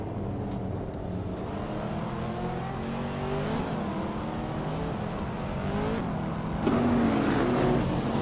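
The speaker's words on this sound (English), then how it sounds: "the race kicks off at Enna-Pergusa with Bobote on pole, in a 2013 Lamborghini Vendal" Several race car engines roar together in a racing video game, a 2013 Lamborghini supercar among them, with overlapping rising and falling revs that grow louder toward the end and no speech over them.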